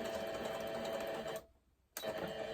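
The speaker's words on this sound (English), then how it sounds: "Just going to reverse stitch there." A sewing machine reverse stitching the interfaced fabric of a shopping bag, its steady whirring drive running loudly, cutting out briefly, then resuming at full speed.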